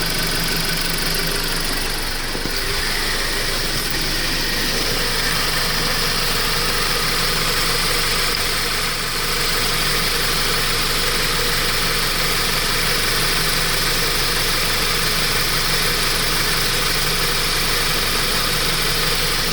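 A Jeep Patriot with a six-speed automatic idles steadily while warming up, a loud continuous engine drone with even vibration and no other sounds throughout.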